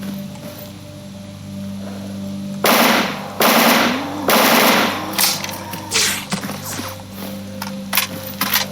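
A PPSh-41 submachine gun fires in the video game Anomaly in several loud, rapid bursts. Single shots and rattling mechanical clicks fall between the bursts, with no voices.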